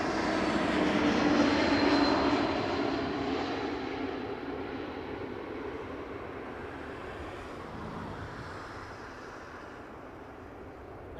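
A Porter Airlines Embraer 195 E2 jet comes in to land at Toronto Pearson, its engine roar loud and broad early on, then easing to a steady, fading rumble over the rest of the pass.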